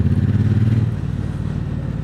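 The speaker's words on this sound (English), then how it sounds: "the kids turn around and hear the thumping of the exhaust, because it's a really low thump" Low, deep thumping exhaust from a Triumph T120 motorcycle, a steady close pulsing beat that stays loud throughout.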